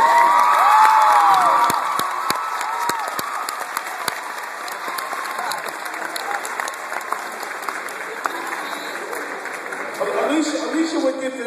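A large crowd at a school event with a singer claps and cheers loudly at first, then the clapping becomes sparser with scattered whoops and shouts, with voices mixed in.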